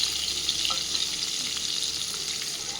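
Chicken pieces for chilli chicken fry in hot oil with a steady, dense sizzle that runs unbroken from start to end, close and moderately loud, with no voices over it.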